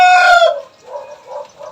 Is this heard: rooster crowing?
yes